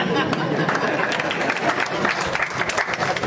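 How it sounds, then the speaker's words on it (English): Sustained applause from an audience at an IIT Patna ceremony honoring a Padma Bhushan recipient, steady dense clapping filling the hall throughout with a faint murmur of voices mixed in. "Let us again applaud him."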